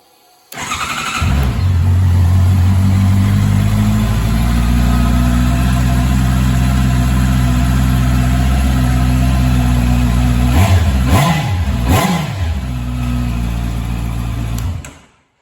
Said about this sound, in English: Just might give you a bit of a listen to how the bike sounds as it is.